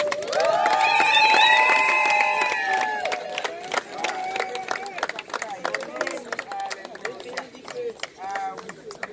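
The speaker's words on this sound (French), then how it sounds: "Est-ce qu'on peut acclamer pour la fille?" Wedding guests at a lavish reception at the Manoirs des Cygnes in Coudray cheer and applaud for a little girl ring bearer, a loud burst of crowd noise that fades into scattered claps, with voices talking throughout.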